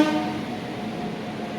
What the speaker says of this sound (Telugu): ఇగో ఇది మన train, Jaipur super fast express.